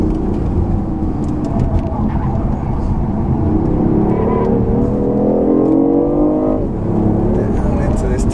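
A 2015 BMW i8 hybrid sports car pulls hard on a racetrack, its engine note climbing steadily through a long acceleration before a brief shift, heard from inside the cabin while the driver talks over it.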